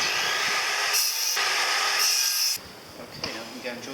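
Wood pieces, clamped two together, being cut for a camper van bench seat, with harsh rasping saw strokes in steady pulls, close and loud, ending in quieter scraping.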